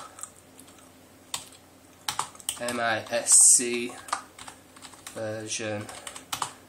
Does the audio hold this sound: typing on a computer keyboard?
yes